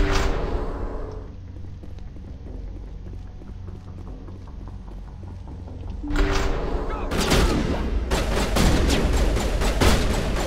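Gunfire erupts in a big fight in the video game Mass Effect, rapid bursts of shots rattling loudly over rumbling game noise in the second half, with someone talking over the action.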